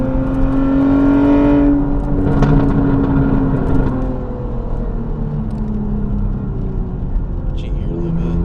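A Cadillac CT4-V Blackwing engine roars loudly nearby on a backroad at night, its pitch climbing through the gears before easing into a steady cruising drone.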